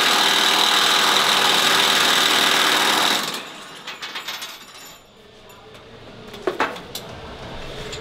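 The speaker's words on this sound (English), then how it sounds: "let's see how the nut busting torque compares as well" A Milwaukee M18 FUEL 1-inch cordless impact wrench hammers loudly and continuously for about three seconds to break a nut loose, then cuts off, leaving a few faint clinks and rattles.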